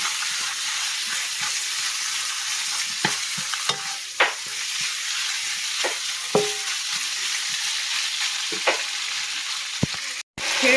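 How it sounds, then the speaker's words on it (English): Chicken stir-frying with broccoli in a pan over high heat, a constant close sizzle with scattered clicks and scrapes of stirring, no talking. "You're gonna fry this until well done"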